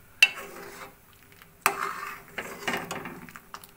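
A spoon stirs tomato soup thickened with cornflour in a pot, with a few sharp clanks against the metal and soft scraping and bubbling between them, close and fairly quiet, no talking.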